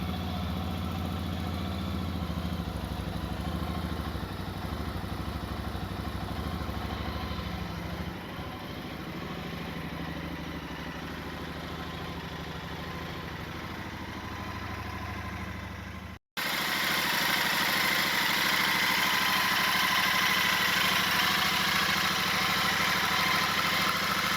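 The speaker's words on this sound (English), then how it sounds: "let's test how the bike sounds with the original exhausts" A Royal Enfield Super Meteor 650 motorcycle engine with stock exhaust idles steadily with a low, even rumble, then cuts briefly and resumes louder and rougher for the remaining seconds.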